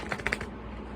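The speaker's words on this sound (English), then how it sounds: "Let's do a nice good shuffle." Tarot cards are shuffled, giving a short burst of crisp riffling and flicking that fades out within about half a second.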